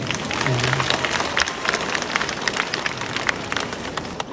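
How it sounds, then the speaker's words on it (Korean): Audience applause at a Buddhist dharma talk during a Buddhist culture expo in Daegu, a dense, steady patter of many hands clapping throughout, fairly loud, with no speech over it. "박수 한번 주십시오."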